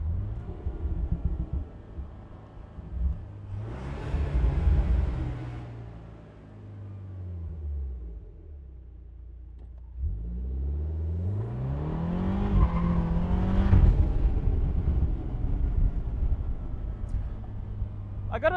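A BMW-powered 2025 Morgan Plus Four drives past with a deep engine rumble. Two distinct rising surges of revving acceleration are separated by a quieter lull, and the engine noise stays loud and close throughout.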